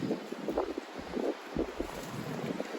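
Steady low wind rushing outdoors in a spring garden, gusting in soft pulses against the microphone at a moderate level, with no talking.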